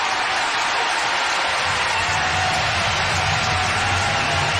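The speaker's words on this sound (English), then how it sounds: "You can listen to the roar of the crowd." A baseball stadium crowd roars and applauds after a two-run double down the right field line, a dense, steady wall of cheering and clapping that swells slightly partway through and holds loud to the end.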